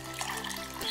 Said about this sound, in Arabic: الآن بدنا الماء العادي، بدنا 3 أكواب ماء.